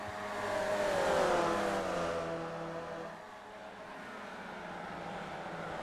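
Race cars in a sim racing video game, with Formula Vee and Porsche Cup cars on track, pass by loudly. One engine roar swells and fades as it goes through, followed by a lower, steady drone of engines.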